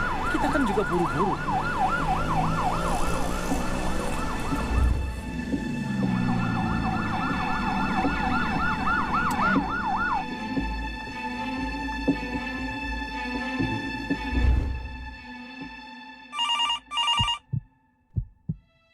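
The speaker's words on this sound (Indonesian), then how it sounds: "Apa sih ini ambulans?" An ambulance siren wails in fast rising and falling cycles over traffic, fading out partway through, followed by a heartbeat-like thumping, a ringing telephone tone and a few sharp knocks.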